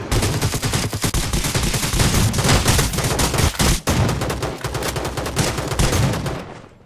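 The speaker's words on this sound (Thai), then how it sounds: "นี่เป็นปืน SMG นะ" An SMG fires in the shooter game Rules of Survival in FPS mode, with loud, dense rapid-fire bursts running almost nonstop, one brief gap midway, then cutting off at the end.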